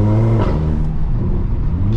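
Volkswagen Jetta TSI with a straight-pipe exhaust revving up close, a loud deep throaty engine drone with a swelling rev and steady rumble over the short clip.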